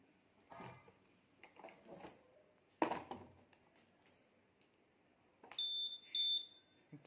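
A buzzer on an Arduino Mega smart blind stick with an ultrasonic sensor gives two short, shrill electronic beeps near the end, after a stretch of quiet handling clicks and rustles.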